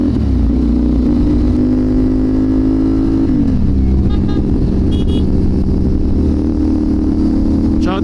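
A Kawasaki 450NK motorcycle engine runs steadily nearby, its tone dipping briefly partway through before settling back into a continuous throb.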